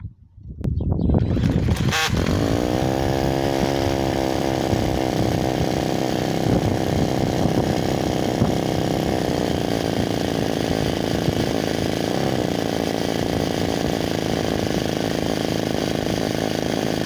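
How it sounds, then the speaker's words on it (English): A small OS model diesel engine in a live model locomotive is spun over by a cordless drill through a 14mm socket on a one-way clutch, catching and then running alone: a loud, steady, buzzing high-revving note held close for the whole clip. "I am converting the loco to electric starting using a cordless drill bought for the purpose."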